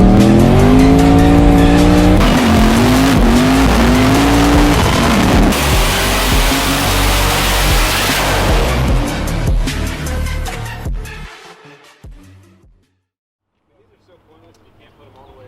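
BMW M3 swapped with a turbocharged 5.0 Mustang 302 V8, engine roaring and revving loud and close with long tire squeals, then fading out abruptly; a voice talks over it.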